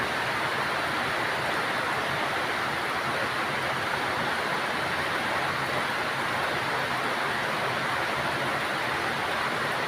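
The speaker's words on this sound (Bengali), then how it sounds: "কঠিন বৃষ্টি শুরু হয়েছে, কঠিন বৃষ্টি।" Heavy rain of large drops pours down steadily, a dense, continuous wash of noise with no voices for the whole stretch.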